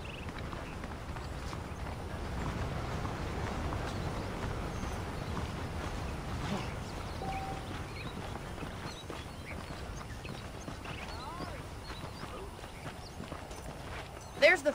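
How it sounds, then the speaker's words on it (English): Horse hooves clip-clop at a steady walking pace in the Western video game Red Dead Redemption, moderately close under a soft ambient background, without clear talk. "The horses are saddled up over here."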